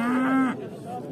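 A young Schwyz-breed bull calf at a livestock market gives one short, loud, close moo, then quiet background murmur follows.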